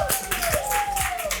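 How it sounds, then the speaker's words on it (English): A small audience claps at the close of an interview session, a short burst of sharp, fairly close handclaps with uneven rhythm over a faint tone. "Can we give her a round of applause?"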